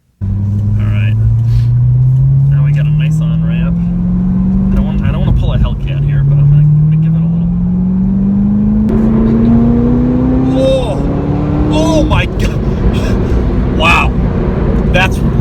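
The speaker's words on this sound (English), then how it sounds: "I was on it for about 2 seconds of full throttle there, and then I got scared. That was brutally fast acceleration." A Chevy Corvette ZR1 accelerates hard at full throttle onto a highway, its engine note climbing steadily in pitch through gear changes, loud from inside the cabin with some wind noise and occasional exclamations.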